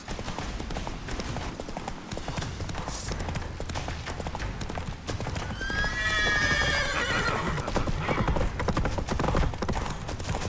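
Roach the horse from The Witcher 3 gallops with a steady, loud clip-clop of hooves, then lets out a clear, high whinny partway through, all over a dense bed of game ambience.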